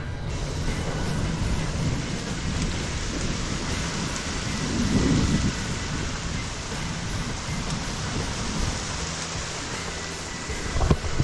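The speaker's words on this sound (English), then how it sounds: "Rain is slowing down" Steady rain pours down continuously on a gravel bikepacking route in North Carolina and Virginia, a dense hiss and low rumble, loud and close throughout.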